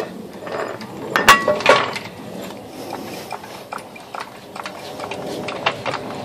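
A car jack is pumped to lift a 2004 Nissan Armada, giving close, repeated metallic ratcheting clicks and clanks, loudest in an early burst and then continuing in a steady rhythm.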